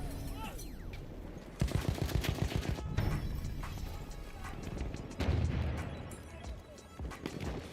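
Rapid machine gun bursts rattle in the video game Battlefield 5, loud repeated volleys with heavy impacts and booms between them, with players talking over the gunfire.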